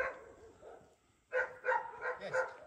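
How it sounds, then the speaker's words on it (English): Neighbouring dogs on a rural Bulgarian homestead bark in a short burst of four or five yelping barks at moderate distance, following a quieter stretch of softer canine sounds, with no talk over them. "there's a, Donna set all the neighbours' dogs off oh, now. That's it. Here they go"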